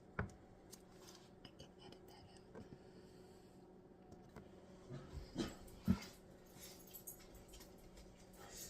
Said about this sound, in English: I do apologize for my barking doggy